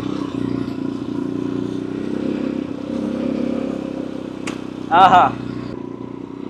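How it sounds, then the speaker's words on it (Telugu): A motorcycle rides along a road, its steady engine drone and road rumble running under a voice, with a brief louder clatter near the end. "సో బైక్లో వెళ్తాం"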